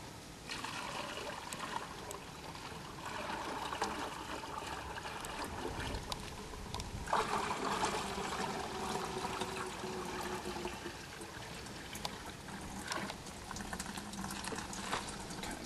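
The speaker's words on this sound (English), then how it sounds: "So I'm going to dump this veggie oil into this filter here." Used vegetable oil dumped into a filter for a veggie-oil-powered tour van, a steady gurgling, trickling pour that runs the whole time at low level over outdoor background noise.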